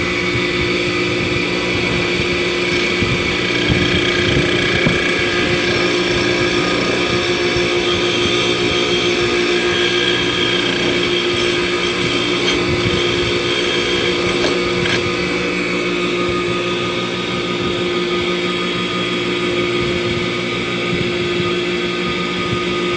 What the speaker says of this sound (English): So here's our buffer.